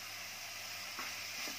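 A tablespoon of ginger garlic paste goes into onions already frying in a pan for a Bengali egg curry, making a faint, steady sizzle with a couple of soft stirring scrapes.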